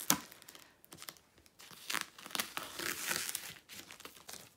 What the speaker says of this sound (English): Let's cut this apart,